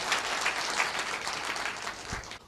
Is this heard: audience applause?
yes